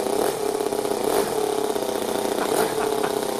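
A Toyan FS-L200 model engine runs steadily inside a Ford F450 RC truck fitted with smokestack exhaust, a loud, continuous buzzing drone with slight surges in pitch throughout.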